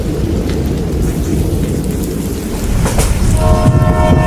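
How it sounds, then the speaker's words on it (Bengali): A train rumbles along heavily with a constant loud roar and rattle, and a horn sounds near the end, a sound effect with no voices. "ট্রেন চলছিল ঝনঝন শব্দ করে, একদম ঠিকঠাক।"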